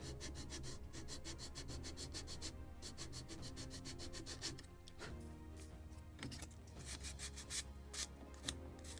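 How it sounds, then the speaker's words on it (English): Sanding a wooden plank for a model of the 1776 gunboat Philadelphia, a steady close rasping rub that runs nearly continuously, with short pauses and a few small ticks. "A little more sanding."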